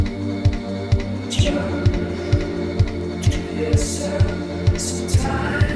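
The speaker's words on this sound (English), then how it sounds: "really like that synth, that kind of pulsing bass synth" A pulsing bass synth from a song throbs in a regular beat of low, evenly spaced pulses under a sustained electronic hum, with occasional brighter hits over the top.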